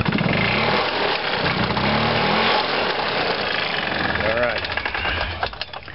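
A Yamaha G1 golf cart engine with a faulty CDI control box, cranking and then chugging in a loud, rough, rapid putter close by, while someone talks over it.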